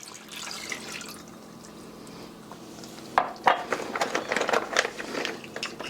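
Water pours and splashes into a pot with sugar, with clinks of cookware and dripping after a quieter stretch of room noise.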